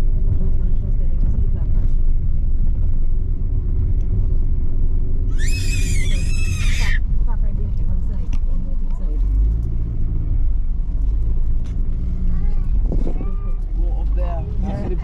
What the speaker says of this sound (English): Not sure if this car can go all the way up,